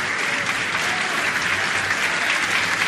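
Applause in the Peruvian Congress as Pedro Pablo Kuczynski enters for the handover of presidential power: dense, sustained clapping from a large crowd, loud and even throughout.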